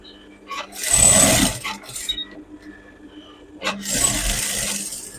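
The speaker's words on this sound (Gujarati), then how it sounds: "એકદમ પ્રોપર આવી રીતના ધારની સિલાઈ એને ચારે બાજુ કરી નાખવાની" A sewing machine runs along the edge of scrap cloth being made into a warm winter coat. Two fairly loud bursts of stitching are heard, the second one longer, with quiet pauses between them and no talking.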